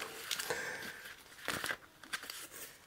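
Paper packaging and inserts from an Insta360 Go 3S action camera box being handled, with intermittent crinkling, rustling and tearing bursts at close range and no talking.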